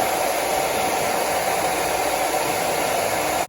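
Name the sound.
ceramic blow dryer drying hair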